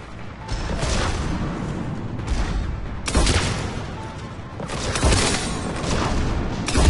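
Heavy weapons fire and booming impacts sound during a combat encounter in the video game Mass Effect, with dense, rumbling bursts swelling at intervals over a continuous roar.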